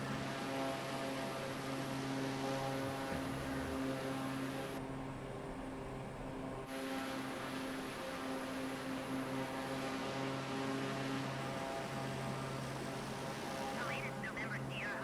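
Propeller drone of a Pilatus aircraft in MS Flight Simulator, a steady engine hum with stable tones that runs loud and unbroken through the whole stretch, with a short dip in the upper noise partway through.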